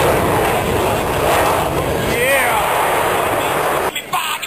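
A jet roaring past near Mach 1 at an air show, a loud sustained rushing roar with a rising and falling whine, and people talking over it.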